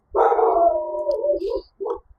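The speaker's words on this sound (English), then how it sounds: "He's a nice dog. He just barks." A neighbor's dog lets out a long, drawn-out howling bark followed by a short second yelp, close and loud, with no talking.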